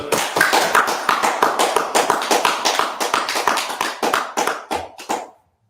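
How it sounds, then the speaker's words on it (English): A group claps hand on hand in a steady, fast rhythm to open a class at the Israelite School of Universal and Practical Knowledge in Richmond, with crisp claps ringing close and loud for several seconds before stopping abruptly. "Let's go ahead and clap it up."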